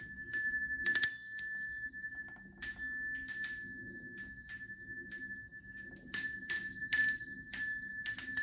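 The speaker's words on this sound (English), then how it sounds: "I'm gonna ring this bell." Small hand bell rung several times in bursts, bright clear tones with long ringing decay between strikes, close and alone.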